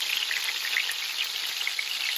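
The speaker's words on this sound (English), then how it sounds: "Let that fry for half a minute or so." Prawn fritters fry in a pan of oil, giving a dense, steady, high crackling sizzle close by, with no voices over it.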